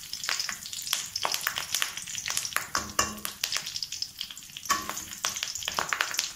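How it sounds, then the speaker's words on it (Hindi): Bay leaf fries in oil over low heat for a mushroom masala, a close, busy crackling sizzle with frequent sharp pops and a few scraping strokes, with no talking. "तेज पत्ता। इसको हल्का सा रेड फ्राई होने देंगे।"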